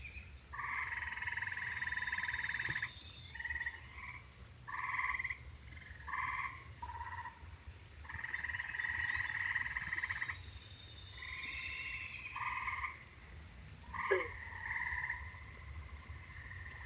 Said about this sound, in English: I'm surrounded by frogs.